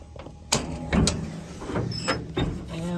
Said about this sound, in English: And I'll open the hood.